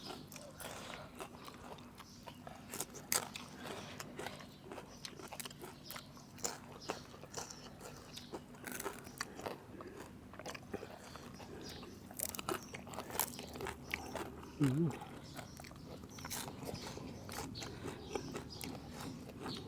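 Crunchy bites of crispy sun-dried pork eaten with freshly cooked rice, a steady run of close, moderately loud crunches and chewing with soft mouth noises throughout.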